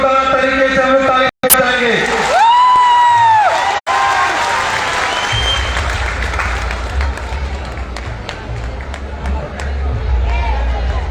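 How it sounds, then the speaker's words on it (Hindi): Loud crowd applause at a public gathering in Jamshedpur, sustained clapping and cheering building across the whole stretch after a speaker's voice on a public address system, with occasional whistles over the dense hubbub. "इनके लिए एक बार जोरदार तरीके से हम लोग ताली बजाएंगे"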